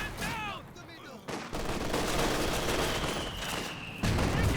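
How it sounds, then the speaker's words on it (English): Mortar shells land among bursts of gunfire in a Company of Heroes 2 2v2 battle, loud booming impacts and crackling shots overlapping densely throughout, with a voice talking underneath. "got some mortar shells coming in"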